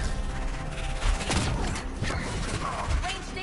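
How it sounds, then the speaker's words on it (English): Gatlock cannon fire in the Dragon Age video game, a dense run of rapid, cracking bursts and impacts that keeps going through the whole stretch amid busy battle noise. "Watch yourself. They have Gatlock cannons."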